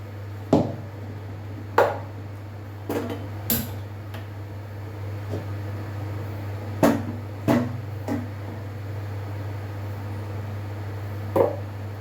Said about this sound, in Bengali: এবার গ্যাসটা ধরিয়ে বসিয়ে দিচ্ছি।